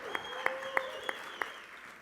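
An audience applauds at a game show, with a handful of sharp, evenly spaced claps standing out over a soft, thin background.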